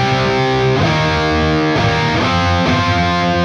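A distorted electric guitar plays a riff in a choppy, halting way like a beginner, loud sustained chords broken by abrupt changes and uneven shifts, close and with no voices.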